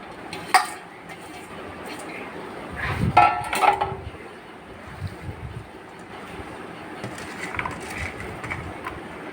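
Banana flower pieces being squeezed and rinsed by hand in clean water for a mocha ghonto with rohu fish head, giving soft splashes and wet sloshing with a few bowl clinks, close and fairly quiet.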